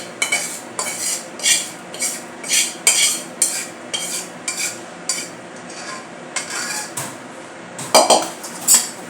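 Spiced masala poured into a pan for Kolhapuri bhadang and mixed with metal utensils, with repeated scraping and clinking strokes in a steady rhythm, close and fairly loud, no talking.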